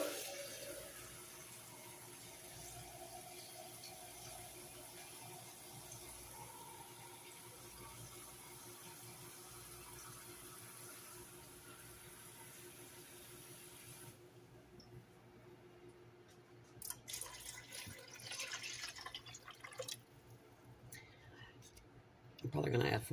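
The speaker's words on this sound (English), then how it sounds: "So I'm going to add 8 cups or 2 quarts of water." Water from a tap runs steadily into a pot holding chicken drumsticks for Southern cornbread dressing, a faint continuous splash that stops partway, followed by clicks and clatter.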